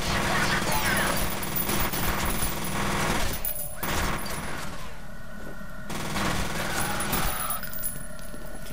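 Rapid bursts of automatic gunfire in the video game F.E.A.R. 3 rattle almost continuously, loud and dense, with short pauses where the firing thins out before resuming.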